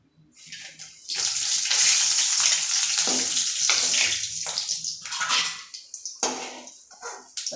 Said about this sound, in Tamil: இதில் இப்போ வரமிளகாய் சேர்த்துக்கணும்.